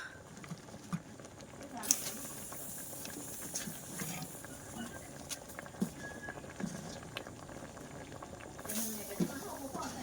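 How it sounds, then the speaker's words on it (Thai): A pot of soup for Isan-style frog curry bubbles and simmers with a steady hiss and soft popping, heard close while people talk nearby. "หม้อเดือดแล้ว"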